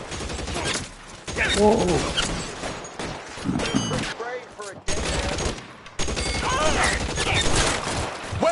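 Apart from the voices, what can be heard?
submachine gun fire in video game L.A. Noire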